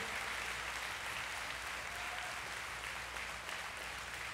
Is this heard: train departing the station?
no